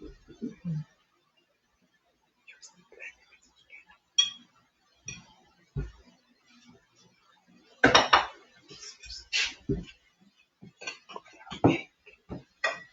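Clinks and scrapes of a spoon working peanut butter dough in a bowl for homemade donkwa, in scattered bursts with quiet gaps, close by and moderately loud, with some voices talking around it.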